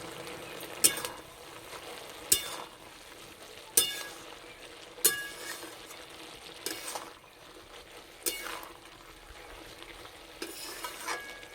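Spinach being stirred in a pan after the lid comes off, with soft sizzling from the greens and a few sharp scraping strokes of the spoon every second or so.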